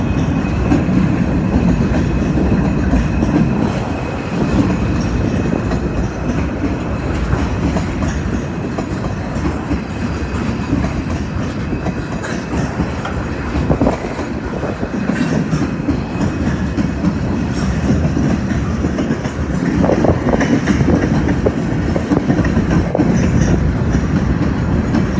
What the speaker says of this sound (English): Hope somebody counted the cars in this train, because this thing is unreal.